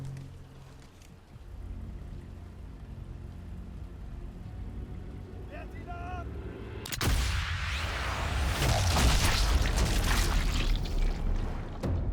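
A sniper rifle shot in the video game Sniper Elite 5, a sudden loud report partway through followed by a long rumbling echo over low ambient noise.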